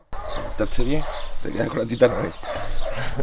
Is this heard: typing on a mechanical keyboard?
no